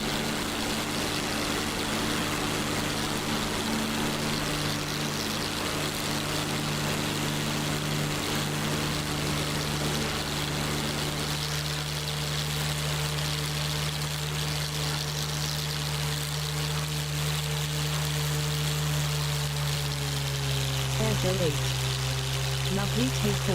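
A jet aircraft in the DCS flight simulator climbs out after takeoff with its landing gear and flaps retracting. A steady, loud engine drone with tonal hums shifts pitch partway through, continuous throughout.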